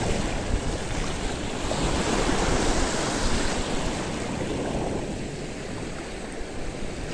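Strong sea waves break and wash continuously near a shore where people fish for mullet with rods, making a loud, steady roar mixed with wind buffeting the microphone.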